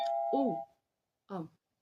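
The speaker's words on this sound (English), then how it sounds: "The doorbell always seems to go off when I make these videos." A home doorbell sounds a short electronic chime, a sustained tone followed by a brief melodic note, then a quick voice interjection after a pause; close and clear.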